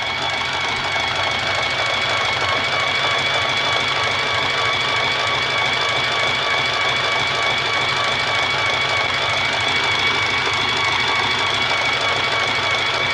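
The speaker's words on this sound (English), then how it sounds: "And that is really cranking out some I-cord now" A CAYDO i1 Pro electric i-cord knitting machine runs steadily at speed 3, giving a continuous loud mechanical whir and clatter with a few steady whining tones and no pauses throughout.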